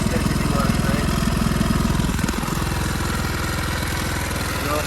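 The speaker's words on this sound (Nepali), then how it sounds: "यो बाइकको इन्जिन हो है" A motorcycle engine fitted to a Nepali-made buggy with a gearbox, running in a steady close idle with a rough, pulsing chug and a brief dip midway.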